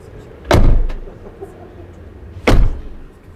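Door of a 2021 Mercedes-Benz Sprinter Kabe camper van shut twice, two loud close solid thuds about two seconds apart, with a quiet pause between them.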